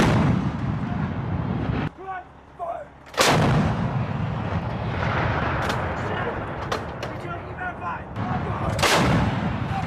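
Marines fire M777 towed 155mm howitzers in a live-fire exercise: heavy booming blasts and rumbling reverberation fill the field, loud and continuous, with a deep crack near the start and end.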